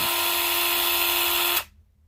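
Ryobi 1/2-inch cordless impact wrench spinning freely in its third speed, a loud, steady high-pitched motor whine that holds evenly, then cuts off abruptly and winds down to silence.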